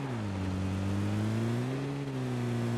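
A car engine in a video game hums steadily with a rising and falling drone as it approaches, alone without talk.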